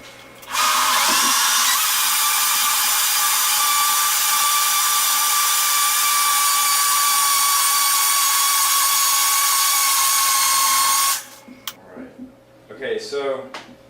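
A Vitamix blender mixing a smoothie roars loudly and steadily for about ten seconds after a brief start, then stops abruptly, followed by a person talking.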